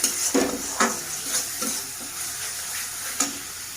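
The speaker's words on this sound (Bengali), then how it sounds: "মশলাটা খুব ভালোভাবে কষানো হয়ে গেছে" Spiced masala sizzles in a pan for a Bengali rui fish kaliya while a spoon stirs it, giving several rhythmic scraping strokes over a steady close frying hiss.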